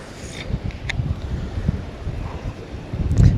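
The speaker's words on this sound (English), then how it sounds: "as soon as we get over here, the wind shifts" Gusty wind buffets the microphone beside a pond, low rumbling bursts that swell and fade unevenly over a few seconds, close and fairly loud, with no voices.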